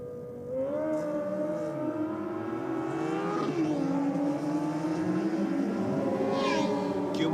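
Drag racing motorcycles, a Kawasaki and a Yamaha, rev high and whine as their engine pitch climbs and shifts through gears, overlapping tones sustained and loud throughout.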